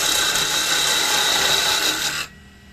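A roughing out gouge cuts a spinning wood blank on a lathe, giving a steady loud broadband hiss and rasp for about two seconds before stopping abruptly, leaving only quiet room noise.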